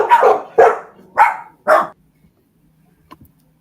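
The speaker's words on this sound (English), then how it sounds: "Puppies." Puppies bark four times in a quick, evenly spaced series, loud and close, then fall quiet except for a faint trailing yip.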